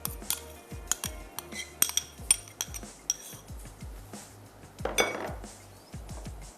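A utensil clinks and scrapes against a frying pan in quick, uneven strokes while sauces and yogurt are stirred together for a kebab mixture, faint and close.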